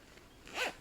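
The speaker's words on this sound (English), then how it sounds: "the zipper works, I promise." A fancy zipper on a small fabric pouch gives one brief, quiet rasp close by, lasting well under a second.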